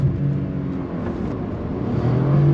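A 2022 Karma GS-6 accelerating in sport mode gives a steady, close, humming engine drone whose pitch climbs slightly and grows louder toward the end, heard alone without talk.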